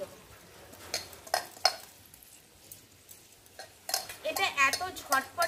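Grated raw potatoes go into a pot of boiling water and are stirred with a utensil, giving scattered clinks and scrapes against the pot that grow into a busier burst of stirring near the end.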